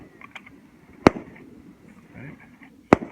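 Other shooters fire at an outdoor gun range: two sharp, fairly distant cracks about two seconds apart over a quiet background.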